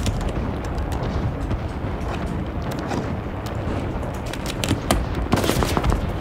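Sniper rifle fire and battlefield gunfire in the World War II shooter game Enlisted, a dense, continuous wash of combat noise with sharp cracks poking through, several louder shots clustered near the end.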